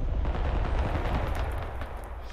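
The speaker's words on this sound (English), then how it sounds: "On left side, artillery." Artillery fire in the war game Broken Arrow, a dense, booming roll of heavy blasts that rumbles continuously and fades slightly toward the end.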